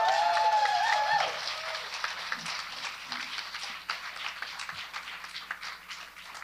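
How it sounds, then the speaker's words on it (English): Audience applause for a panel at an Indigiqueer music and storytelling event, sustained clapping from a room of people, fairly steady and moderately loud, fading slightly, with a brief voice near the start. "Let's give them one more round of applause"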